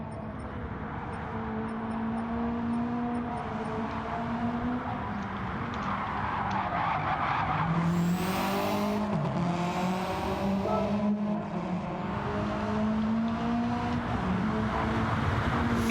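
A Group B or Group 4 rallycross race car on a flying lap at Sardegna in a racing game, its engine droning steadily with gear changes and rising pitch, plus bursts of tire squeal and skidding, with no talking.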